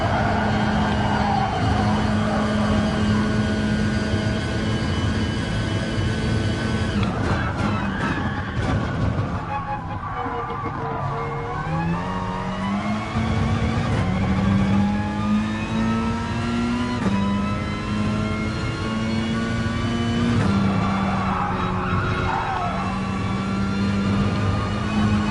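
A race car engine at full throttle in Gran Turismo Sport on the Sardegna track, droning and climbing in pitch through gear changes, loud and continuous with a rising and falling whine.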